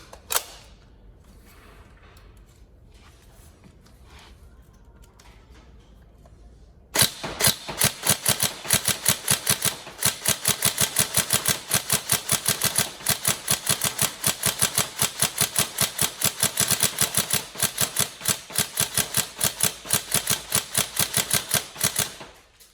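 A Tokyo Marui 416 Delta NGRS airsoft electric gun, upgraded and powered by a 2600 battery, follows a quiet stretch with a long run of rapid, evenly spaced mechanical shots, loud and close, with no talking.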